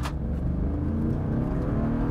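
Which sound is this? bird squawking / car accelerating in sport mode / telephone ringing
car accelerating in sport mode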